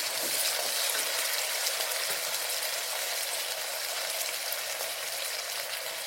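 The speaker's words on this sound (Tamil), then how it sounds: "க்ளீன் பண்ணி வச்ச புதினாவும் மல்லி இலையும் அதில் சேர்த்துட்டேன். நல்லா வதக்கிக்கிறேன்." Mint and coriander leaves sautéing in hot oil in a pan, a steady bright sizzle that holds evenly throughout, loud and close, with no talking.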